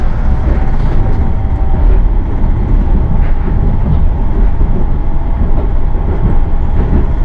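A steady, loud rumbling of a Yurikamome automated transit train rolling along in Tokyo, a continuous low mechanical drone with faint rattles and no voices.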